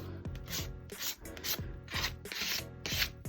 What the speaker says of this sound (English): you can just grab those wet parts and just keep scraping until